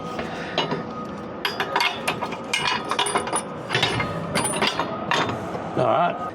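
Metal clinks and ratcheting wrench clicks sound steadily as bolts are tightened while fitting a bike receiver hitch to a Mars caravan, close by, with occasional voices in the background.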